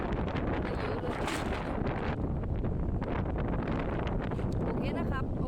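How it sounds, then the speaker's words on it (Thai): Strong wind buffets the microphone at the seashore at low tide, a loud, continuous roaring rumble with gusty surges and no other clear sounds. "ลมแรงมากเลยครับ"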